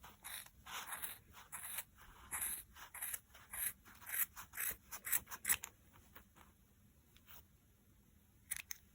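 Scissors snip through the yarn loops of a crocheted beanie's pom-pom in quick, close, repeated cuts that come in bursts, then thin out into a few scattered snips near the end.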